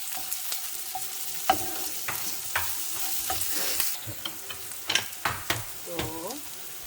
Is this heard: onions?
yes